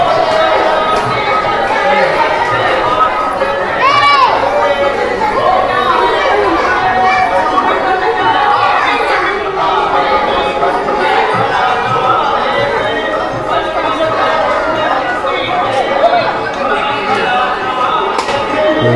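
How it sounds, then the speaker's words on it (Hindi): A dense crowd of Hindu devotees at the Mahadipur Durga temple in Khagaria, Bihar, with steady overlapping chatter and murmuring voices filling the space, occasional brief bursts and taps rising from the continuous hubbub. "मंदिर में आए हुए श्रद्धालुओं को आप देख सकते हैं, काफ़ी भीड़ जो है इस मंदिर में देखने को मिलता है।"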